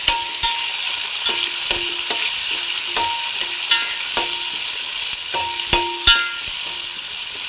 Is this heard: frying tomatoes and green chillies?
yes